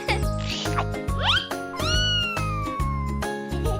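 A cartoon cat meows several times in a row, with clear rising and falling cries over a bouncy backing beat in a children's animal song.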